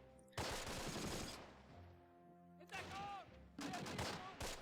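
Gunfire and an incoming artillery strike in the WWII strategy game Close Combat: Wacht Am Rhein, with bursts of rapid firing, a lull, then further volleys and whistling shells, moderately loud.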